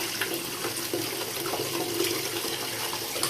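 Water runs from a tap into a bathtub during a bubble bar demonstration, a steady hissing, splashing flow at moderate level that stays constant throughout with no voices.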